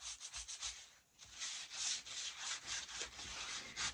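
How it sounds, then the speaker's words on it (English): A small piece of used sandpaper rubs back and forth along the edges of a thrifted item in quick, even strokes, with a close, soft rasping rhythm and a brief pause, no talking. "with our little piece of sandpaper, and I'm even going to use the side we've already used"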